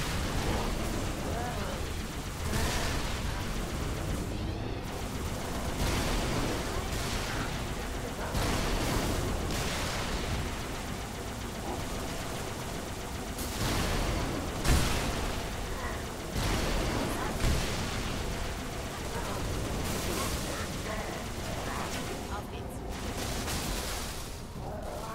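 Dense, continuous battle noise from the video game Halo: Reach: explosions and gunfire roar throughout at high loudness, with heavy bursts and a few sharper peaks, no quiet gaps.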